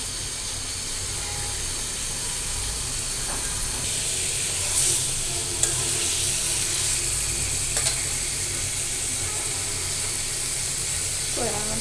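Potatoes fry steadily in a pan with a continuous sizzle, punctuated by scraping and stirring clicks from a utensil.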